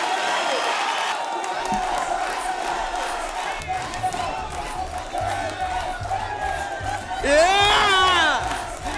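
A television studio audience at a dance show cheers and shouts after a performance, a loud sustained crowd roar with whoops and some clapping, with music playing underneath.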